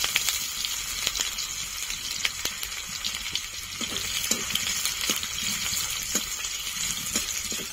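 Chopped onions fry in oil with whole dried chillies and cumin for a rohu fish curry with potato and pointed gourd, giving a steady close sizzle dotted with small sharp crackles and no talking.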